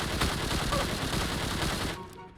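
Rapid automatic gunfire in the PUBG Mobile shooter game, a dense burst of repeated shots that is loud and close and stops abruptly near the end.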